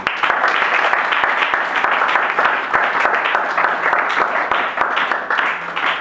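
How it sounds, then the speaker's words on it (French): A graduation ceremony audience breaks into dense, sustained applause, many hands clapping steadily at a loud level throughout, with a few voices faintly mixed in. "que je vous demande d'acclamer ce nom"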